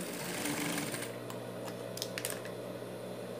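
A sewing machine stitches a dog bandana, its motor running in a steady, close whir with a faint mechanical rattle throughout.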